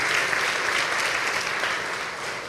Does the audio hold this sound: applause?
yes